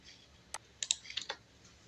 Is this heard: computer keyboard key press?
yes